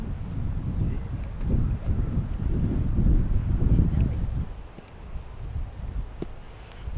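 Wind on a golf course buffets the microphone in heavy, low rumbling gusts that swell and ease, loudest midway and then settling into a softer rush, with no voices heard.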